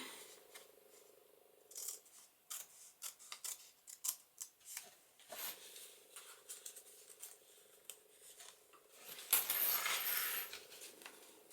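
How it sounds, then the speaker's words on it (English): Scissors snip through paper while a holiday junk journal is trimmed, a run of close, crisp cuts in quick irregular rhythm, then a louder rustling burst near the end; no talking. "Turn that around and then cut that."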